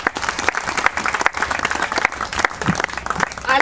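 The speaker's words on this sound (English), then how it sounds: "Could I have a round of applause for all the past winners?" A crowd at a Fourth of July Citizen of the Year ceremony applauds past winners, dense steady clapping that fills the whole stretch at a fairly loud level.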